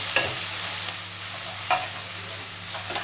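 Onion, tomato and grated ginger paste frying in a pan for a mung dal and cucumber curry, a loud continuous sizzle with a few sharper stirring scrapes, close and without speech.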